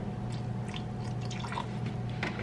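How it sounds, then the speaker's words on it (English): Water trickles and drips into a blender jar holding soaked sea moss for gel, a soft, close, uneven splashing over a steady low hum of the room. "I'm just gonna pour a little bit of water in here."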